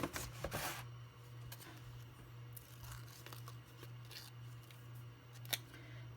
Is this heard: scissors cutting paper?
yes